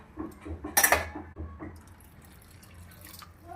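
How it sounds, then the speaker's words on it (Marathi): Water poured into pav bhaji vegetables in a pan, a short splashing pour that swells near the start and then settles into quiet bubbling and trickling, close and fairly soft. "अजून थोडं पाणी घालूया"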